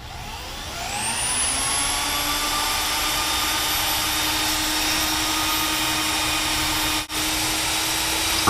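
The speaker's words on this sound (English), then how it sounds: "first thing I want to do is I want to drill a pilot hole" A power drill bores a pilot hole into a block with a steady, loud, high whine that spins up and holds at constant pitch, briefly dipping near the end, with no talk.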